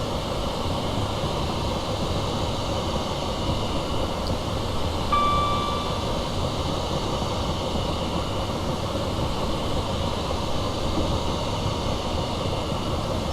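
Class 175 diesel multiple unit running in a train simulator game, a steady broadband rumble and hum of engine and wheels throughout, with a brief faint tone around the middle, no talk.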